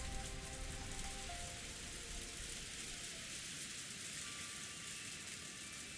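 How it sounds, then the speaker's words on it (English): Steady ambient rain falling in the Umineko visual novel video game, a soft continuous hiss of rainfall at a constant level, with faint low tones underneath and no voices. "she was wrapped up in the soft sound of the rain"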